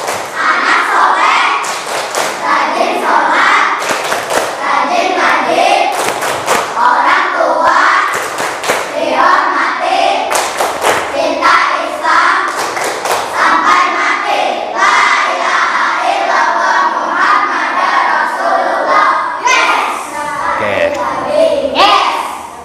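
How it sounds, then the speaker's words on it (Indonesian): Schoolchildren in an Islamic religious education class clap the rhythmic 'tepuk anak soleh' pattern, with sharp patterned bursts of hand claps and thumps alternating with chanted children's voices. "Kita tepuk tangan terlebih dahulu, tepuk anak soleh."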